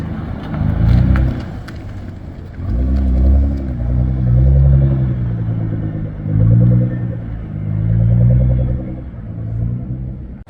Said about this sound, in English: The GTR is just parking out there.